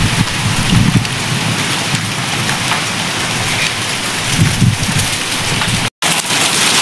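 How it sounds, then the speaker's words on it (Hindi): Steady light rain drizzle falling outdoors as the weather turns, a constant close hiss of drops on surfaces with occasional heavier patter, continuous and alone without voices. "तो गाइस हल्की हल्की बूंदाबांदी शुरू हो चुकी है और मौसम थोड़ा ज़्यादा ख़राब होता हुआ आज।"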